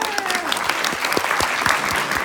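Applause from a graduation audience, a short burst of scattered clapping with a few louder individual claps standing out close by, while faint voices murmur underneath.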